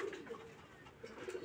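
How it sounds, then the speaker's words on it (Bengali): Soft, low cooing from pigeons, including young Pakistani Chini Teri birds, in a loft, continuous and faint with gentle throaty pulses. "কবুতর আছে খুব সুন্দর, ফ্লাই করে এবং ডিগবাজি দেয়, বাজি করে"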